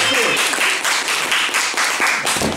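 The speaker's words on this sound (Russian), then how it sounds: "это вам аплодируют, вам аплодируют" An audience at a Stalker project talk applauds continuously, a dense, even wash of many hands clapping close by that stays loud throughout.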